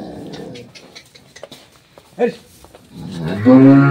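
Big dairy cows of an improved breed on an agro farm, one mooing loudly and close in a long low call at the end, with farm chatter and scattered speech before it.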